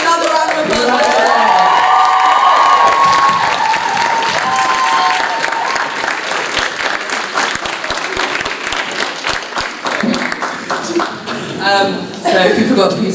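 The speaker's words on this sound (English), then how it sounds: "Can we have another round of applause?" At a culture and performance showcase, an audience bursts into loud applause and cheering, with whoops and shouts over dense clapping that gradually thins into scattered claps and crowd chatter.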